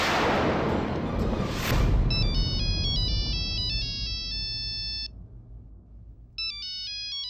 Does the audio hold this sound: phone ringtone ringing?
yes